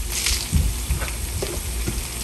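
About half a teaspoon of garlic sizzles in a hot pan for stir-fried pea tips. A steady close frying hiss runs throughout, broken by a few soft stirring scrapes, with no talk.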